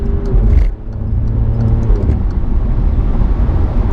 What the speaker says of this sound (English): That was a third gear pull, and this thing just, it literally like threw us back in the seat